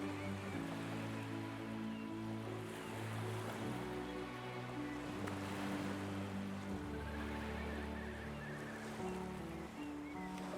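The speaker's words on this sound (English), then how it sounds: "interrupted only by the distant sound of waves that crash on the cliffs" Faint, steady surf washes and rumbles from afar as ocean waves break against the cliffs of the Washington coast, forming a continuous soft roar.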